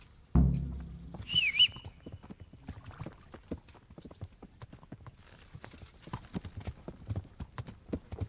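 Horse hooves clip-clop steadily on the ground in the video game Kingdom Come: Deliverance, a brisk, even rhythm of close, moderately loud footfalls after a sharp opening thud, with no talk over them.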